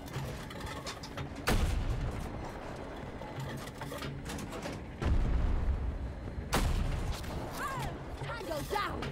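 Explosions from a tank being hit in a multiplayer war video game, several loud booming blasts at intervals over continuous battle noise and gunfire, with voices talking throughout.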